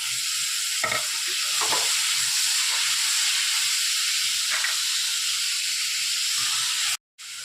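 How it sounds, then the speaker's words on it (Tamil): Chopped onions and tomatoes sauté in a hot pan, giving a steady close sizzle and hiss with a few scrapes and clacks as the mixture is stirred, and no talking. "வெங்காயம் முக்கால்வாசி வதங்கிட்டு எடுத்து வச்ச தக்காளியை போட்டு அதையும் நல்லா வதக்கணும்"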